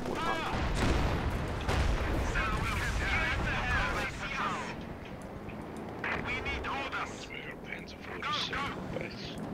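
Tank gunfire strikes a T-34-76 in the Wikinger game, with repeated heavy shots and impacts landing at irregular intervals under the near-continuous talk of players.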